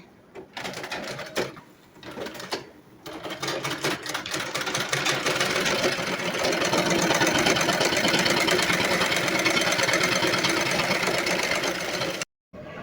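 A home sewing machine stitches clothes in a steady, fast mechanical whir, starting and stopping in short bursts early on, then running continuously for several seconds before cutting off near the end.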